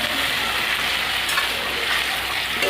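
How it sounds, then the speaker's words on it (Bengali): Vegetable stems and chilies sizzle and fry in a pan while being stirred, a continuous bright crackle with soft scraping, close and steady, for a Bengali fish curry. "ডাটা লঙ্কা দিয়ে একটু নাড়িয়ে নেব।"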